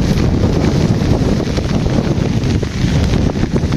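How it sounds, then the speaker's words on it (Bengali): Strong wind gusting during a rainy spell, a loud continuous roar buffeting the microphone with no break and no voices. "বাতাস একটু জোরে ছাড়ছে"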